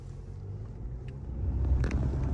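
An Audi A6 C8 pulls away, its low engine and road rumble rising in level through the second half, with faint wind noise over the steady drone.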